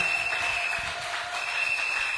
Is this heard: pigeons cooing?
no